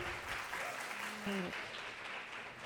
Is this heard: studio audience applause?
yes